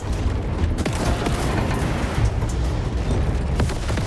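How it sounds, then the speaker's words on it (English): Missiles explode in War Robots Frontiers, a mech combat video game, as a dense, continuous barrage of overlapping booms and crackling blasts, loud and relentless throughout. "Incoming missiles."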